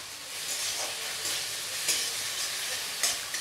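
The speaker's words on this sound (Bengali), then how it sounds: "পেঁয়াজটা ভাজা ভাজা হোক" Onion frying in oil for an egg masala gives a steady, dense sizzle close up, with occasional brief stirring swells and no voices.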